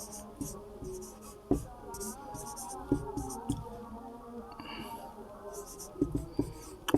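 Pen or chalk scratching steadily as a maths solution on sine theta for a triangle is written out in a class 10 lesson, with short taps and strokes under a teacher's nearby speech.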